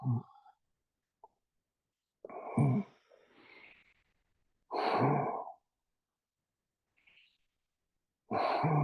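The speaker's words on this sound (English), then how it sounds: "Breathing deep, breathing natural." Deep, slow breaths during a yoga session, several long separate exhalations with quiet pauses between them, close and fairly soft, with no talking.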